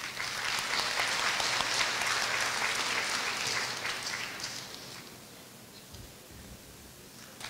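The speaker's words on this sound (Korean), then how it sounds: "큰 박수 부탁드립니다." An audience at a Korean-language course graduation ceremony claps loudly, then the applause thins and fades out over a few seconds into near quiet.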